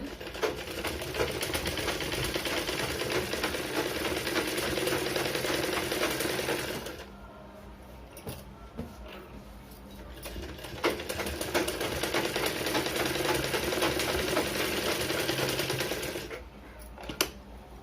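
A sewing machine stitches the seams of a back-open blouse, its rapid whirring running steadily for about seven seconds, pausing briefly, then resuming for several more seconds before stopping near the end.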